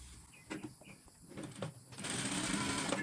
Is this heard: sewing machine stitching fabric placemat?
yes